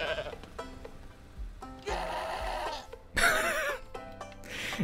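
A goat in a video game bleats several times in sharp, wavering cries, loud and close over a low background.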